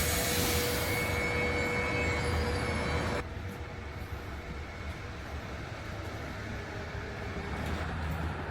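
A passenger train ride toward Perth, heard from inside the carriage. A steady, loud rumble of wheels and motion continues throughout, and the tone drops and shifts after about three seconds.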